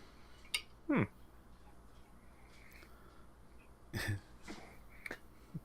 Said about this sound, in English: sound like you're about to cough your lungs out over there